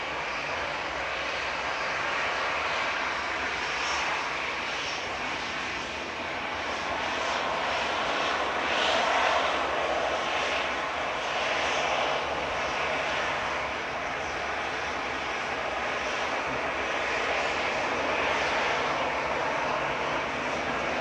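A Ryanair Boeing 737-800 bound for Milan roars past at Manchester Airport, its jet engines a broad, steady rushing noise that rises and falls gently as the plane moves, fairly loud and close, with no talk over it.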